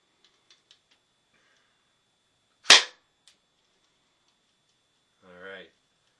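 A Tokyo Marui MP7A1 airsoft gun fires one sharp semi-auto shot at a Coke can, followed by a faint tick. A short voice sounds a few seconds later in an otherwise quiet room.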